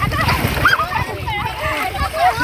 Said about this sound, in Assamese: ভেটাটি দিয়াৰ পিছতে চালনীয়ে মাছখিনি উঠাব বিচাৰিছে